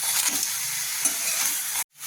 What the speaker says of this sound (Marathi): हे परतून घ्यायचं.